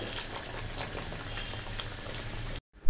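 Puri bubbling and frying in hot oil in a large kadai, a dense, continuous crackling fizz close up, cutting off abruptly near the end.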